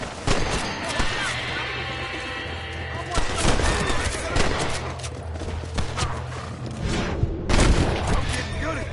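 Gunfire rattles through a Red Dead Redemption gameplay scene on PS5, with repeated shots and bursts layered over a steady game soundscape, loud and close, while a voice talks over parts of it.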